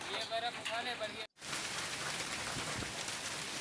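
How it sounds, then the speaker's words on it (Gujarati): Heavy rain mixed with hailstones pours down in Kawant town, a dense, steady roar of drops hitting surfaces, briefly cut off by a short gap, with a voice speaking over the opening moments. "બરફના ગરા પણ પડ્યા અને વરસાદ પણ પડ્યો સાયમલ્ટેનિયસલી"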